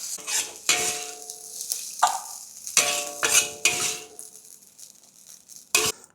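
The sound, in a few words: stirring Yangzhou fried rice with char siu and shrimp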